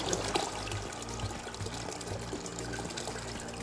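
Water pours into a hard cider brewing kit fermenter, topping it up toward 21 liters; a close, steady splashing trickle with a gurgling fill that runs throughout.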